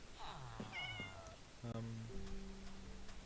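A Minecraft cat mews several times in short, rising and falling calls, fairly clear against a quiet game background with a few soft clicks.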